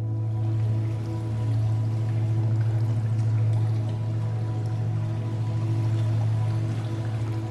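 Running water in a Minecraft Backrooms adventure map, a steady pouring, streaming flow that continues unbroken throughout, moderately loud with no talk.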